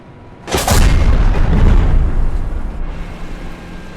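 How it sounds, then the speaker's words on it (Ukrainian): A heavy booming explosion hits suddenly, then rolls into a long, loud rumbling roar like big tank gunfire echoing across open ground, in the video game Call to Arms: Panzer Elite. "Позаду он вони вже стріляють."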